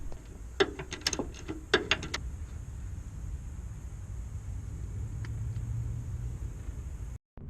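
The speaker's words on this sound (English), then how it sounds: "I gotta get that last bolt out." A ratchet works on the last starter motor bolt of a 2003 Ford F150, giving a few quick bursts of close metallic clicking early on, followed by a steady low rumble with no talking.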